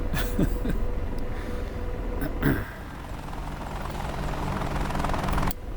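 Steady rotor and turbine drone of an AH-64D Apache helicopter in the DCS combat flight simulator as it settles onto the ground, a continuous engine roar with a couple of brief thumps and a short drop in level toward the end.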